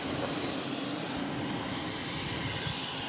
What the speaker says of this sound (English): This Pilatus PC-12 is coming in from Masena, Boutique Air, 863.